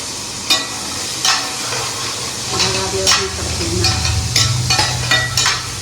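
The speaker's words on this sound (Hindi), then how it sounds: "फिर हम डालेंगे इसमें गार्लिक यानी कि लहसुन और हमारे काजू" Garlic and cashews fry in a pan for shahi paneer, giving a loud, continuous sizzle and hiss with sharp stirring clatters and scrapes breaking through at intervals.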